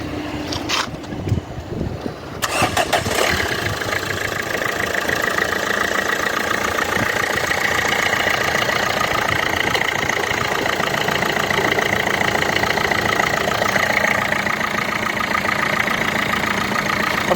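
A nearly cold 2013 Renault Megane engine cranks and starts after a couple of seconds, then idles evenly and steadily at a close, constant hum.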